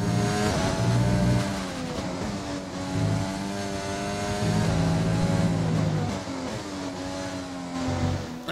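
Screaming F1 car engine in the F1 2020 racing game, a sustained high-revving drone with shifting harmonics and gear changes under grip loss and wheelspin out of corners, loud and continuous throughout.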